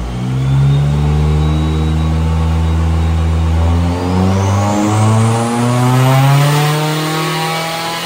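A built turbocharged Toyota 3SGE engine revs hard on a dyno, its loud, buzzing drone rising and falling in pitch through repeated pulls with a high turbo whine on top, close and continuous with no talking.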